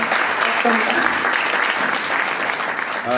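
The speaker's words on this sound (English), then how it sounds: "Please applause" Steady applause from an audience at a lecture event fills the room, with a voice briefly audible at the end as the clapping continues.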